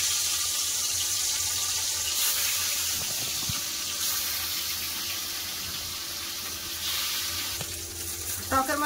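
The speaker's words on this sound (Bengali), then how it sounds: "তেল গরম হয়ে গেছে, এবার মাছ দিন।" Freshwater rohu-type fish pieces frying in hot mustard oil in a kadai, a loud steady close sizzle with faint scraping and clinking near the end, no voices.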